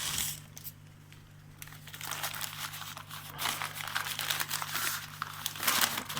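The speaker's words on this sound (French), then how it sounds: "On va déballer assez vite, mais en même temps, c'est bien emballé quand même" Continuous crinkling and tearing of packing material as a well-wrapped parcel is opened, close and busy, with bursts of louder rustling and ripping.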